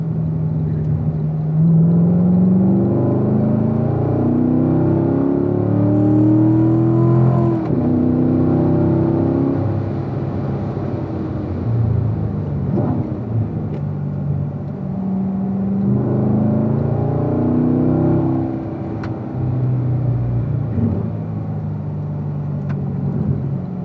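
A car on a racetrack accelerates hard out of a corner at full throttle, its engine note rising in repeated sweeping pitch climbs with gear changes, loud and close, rumbling continuously for the whole stretch without any talking.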